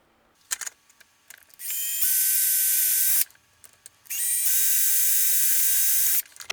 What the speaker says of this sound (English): we're going to go ahead and just drill in some screws